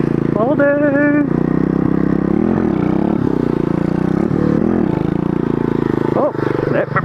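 A mini pit bike engine revs and whines under a rider in a neighborhood setting, its pitch rising and falling as it accelerates, with talking over much of it.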